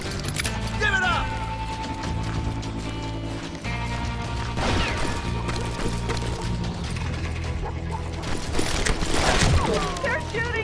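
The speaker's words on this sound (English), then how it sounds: "They're shooting in the street!" Gunfire crackles in a street shootout in the Western shooter Call of Juarez Gunslinger, with sharp bursts spread over a steady bed of game music and noise, loudest near the end.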